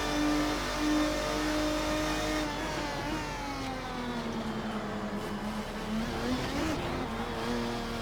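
A 2000 Lister Storm GT race car in a racing game on the Nordschleife, its engine droning loud and close, dipping then climbing in pitch as it accelerates hard, with no voices.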